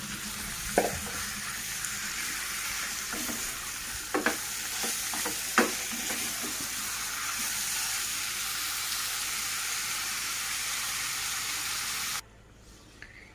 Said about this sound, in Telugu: ఇలా మ్యారినేట్ చేసి పెట్టుకున్న ఖైమాని కూడా వేసేసుకొని బాగా కలుపుకొని